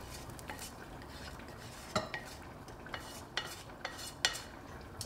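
Chopped onions being mixed in a big bowl for an Indian dish, faint scraping and soft clinks of a utensil against the bowl at irregular intervals, quiet and close.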